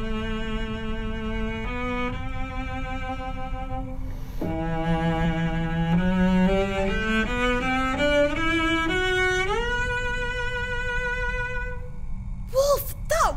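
Bowed cello melody in the tenor range, with smooth sustained notes that shift and slide between pitches, played solo and close for about twelve seconds before a short burst of voice at the end.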